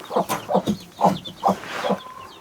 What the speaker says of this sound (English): Bad chicken.